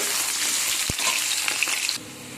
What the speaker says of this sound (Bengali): কড়াই বসিয়ে দিয়েছি দিয়ে দিচ্ছি তেল একে একে সব সবজিগুলো আমি ভেজে নেব প্রথমে দিয়ে দেব আলু আমি ভেজে নেব